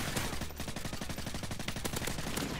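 Sustained automatic gunfire in the video game Modern Warfare 3, a dense rapid rattle of shots running steadily and loudly throughout with no talk over it.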